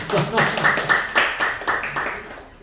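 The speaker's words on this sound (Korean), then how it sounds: "박수 한번 쳐야 돼요. 박수." A church congregation claps during a Sunday sermon on Hebrews, a series of uneven clustered claps, fairly close, mixed with some voices and fading toward the end.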